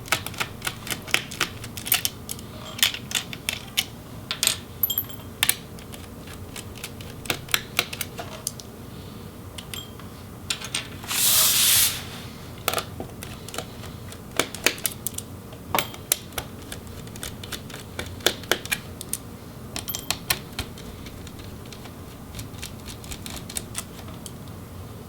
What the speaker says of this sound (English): now we're going to go ahead and remove all of the Phillips head screws